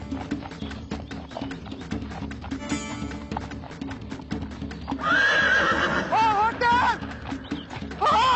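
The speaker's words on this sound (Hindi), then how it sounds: "बल्कि हमारा घोड़ा उसे लेकर आ रहा है।" A horse in a costume-drama scene clip-clops steadily under ongoing talk, then lets out a loud, drawn-out whinny near the end, close and prominent.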